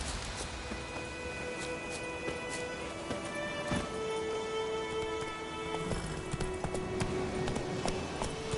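Roach, a horse in The Witcher video game, gallops with a steady clip-clop of hooves at moderate volume, rhythmic and continuous, with faint ambient game sounds and a short spoken line.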